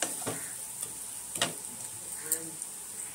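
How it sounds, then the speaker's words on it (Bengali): Mutton kosha spice masala, with mace added, frying in oil and being stirred, a soft steady sizzle with a few sharp scraping strokes of the spoon against the pan. "মশলাটাকে খুব ভালো মতো কষিয়ে নেবো"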